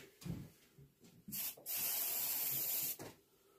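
Airbrush hissing paint onto the beak of a carved wood duck, short spurts followed by one sustained close spray lasting over a second, quiet overall with no talking.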